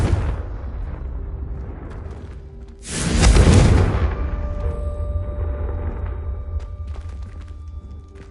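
A single heavy fire-spell explosion in Hogwarts Legacy on PS5 erupts loud and broad, then rolls off into a lingering rumble over quiet game ambience, with no one talking.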